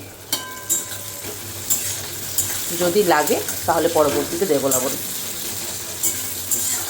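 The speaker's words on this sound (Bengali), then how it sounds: "পেঁয়াজটা একটু ভাজা ভাজা হোক।" Onions and greens frying in a wok give a continuous sizzle, with a few spatula scrapes and knocks. A voice speaks over the middle stretch.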